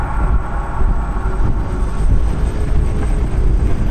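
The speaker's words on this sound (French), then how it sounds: "il y a enfin un hélico qui se pointe" A helicopter arrives in a Resident Evil film, its loud engine and rotors roaring steadily and droning heavily throughout, with no voices.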